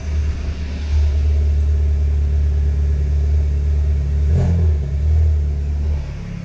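A Volkswagen MK7 engine runs loud and close, its steady rumble swelling gently a few times in light revs before settling, with no voices.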